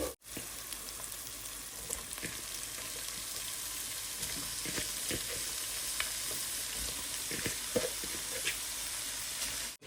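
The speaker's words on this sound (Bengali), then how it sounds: "এই বিফ কিমাটা আমি রান্না করতেছি সমোসার জন্য" Beef keema for samosa filling cooks in a pan of spiced masala, a dense, steady hiss and crackle with occasional faint stirring taps running the whole time, close up and without speech.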